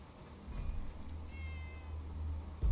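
A cat in the video game Fallout 76 gives a drawn-out meow over a low hum, fairly clear and sustained for a couple of seconds, with no talk over it.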